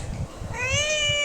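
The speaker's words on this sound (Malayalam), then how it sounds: "MEOW" A single short cat meow, clear and close, rising in pitch and then holding, preceded by a brief low rumble.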